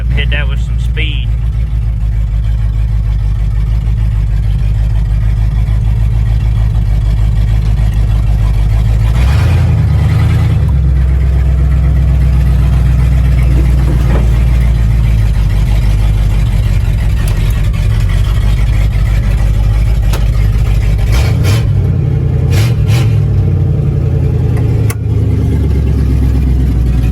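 A 1955 Buick driving at speed, its engine a loud, steady low rumble mixed with road and wind noise throughout, swelling in places as it accelerates.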